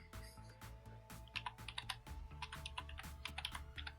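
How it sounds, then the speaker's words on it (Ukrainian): Someone types a web address on a computer keyboard, a soft close run of quick key clicks with uneven pauses and a few sharper taps, no talking. "Для цього вводимо адресу google.com."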